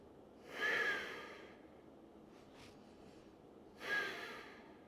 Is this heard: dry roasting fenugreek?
no